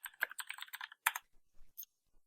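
Rapid typing on a computer keyboard, close and fairly quiet: a quick run of clustered key clicks, a brief pause, then a few scattered keystrokes, with no voices.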